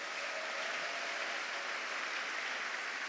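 A church congregation claps together during a Sunday worship service, a steady, dense wash of applause that stays even throughout with no voices over it.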